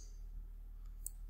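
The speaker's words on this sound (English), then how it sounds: "So I will click on enroll here to enroll a new subject." A single faint, sharp computer mouse click, made while pressing the enroll button in fingerprint enrollment software, lands near the end over a quiet room hum.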